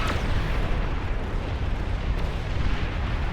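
A massive nuclear-scale explosion in a real-time strategy free-for-all battle, a loud, sustained roaring rumble that holds steady and dense for several seconds with no talk over it.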